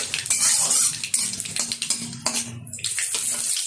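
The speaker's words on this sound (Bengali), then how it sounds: "তেলের মধ্যে দিয়ে দিচ্ছি একটা শুকনো লঙ্কা, কিছুটা কালো জিরে ফোড়ন। ভালোভাবে ভেজে নেব।" Dry red chilli and kalonji seeds hitting hot oil for a Bengali aloo posto, a loud steady crackling sizzle with brief stirring clinks over it.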